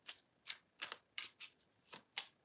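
Playing cards are shuffled in quick, close riffles, seven short crisp bursts spaced at a steady rhythm, heard quietly and alone.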